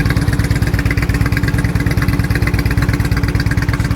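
Harley Davidson Ultra Classic motorcycle engine idling close by, a steady loud loping thump with an even pulsing rhythm and no other sounds.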